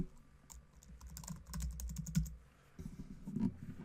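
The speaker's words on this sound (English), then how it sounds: "Now we type in WordPress." Keys clatter on a computer keyboard in quick, uneven bursts of close, crisp taps, with a short pause partway through before another cluster of keystrokes.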